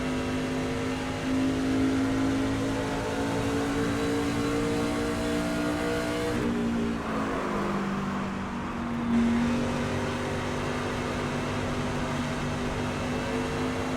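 A race truck engine in a racing video game on an oval track, droning steadily near and loud, its pitch holding with a brief rise and dip midway as the truck coasts and pulls through the turns.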